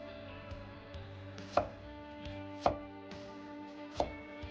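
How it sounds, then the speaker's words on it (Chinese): Kitchen knife slicing through a celtuce stem on a cutting board: three crisp, separate chops spaced about a second apart, faint and close, over a quiet background hum. "接着在一面先切上2片，再切面朝下，这样莴笋就不会打滚伤着手。"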